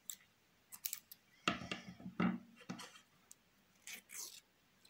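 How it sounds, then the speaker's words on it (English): Scissors cut through crochet yarn, giving a few sharp close snips and a short cluster of cutting clicks in a quiet room. "Then cut your yarn."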